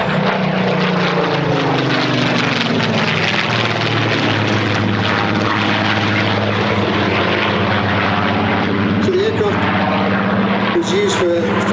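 Spitfire aircraft piston engines drone loudly and continuously through a formation pass at the 2024 Sywell Airshow, a steady deep propeller roar with a faint voice beneath it.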